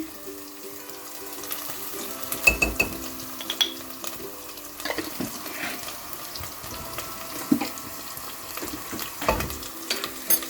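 Potato and pea curry thickened with gram flour sizzles in a pan as a spoon scrapes and stirs it in irregular strokes, with soft clinks and bubbling close by.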